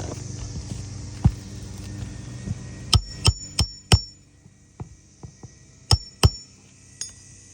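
Hammer striking nails during a repair, a series of sharp metallic blows with ringing clinks, irregularly spaced and close, with a faint hum underneath and quieter knocks between.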